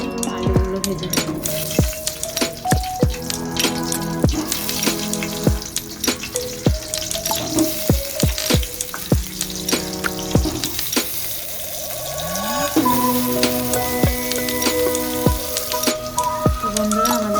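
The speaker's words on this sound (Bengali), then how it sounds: "তো বন্ধুরা আমাদের আলুগুলো ভাজা হলে নামিয়ে নেব।" Potatoes fry in hot oil with a continuous sizzle, mixed with recurring clinks and scrapes of a spatula in the pan and some running-water-like hiss.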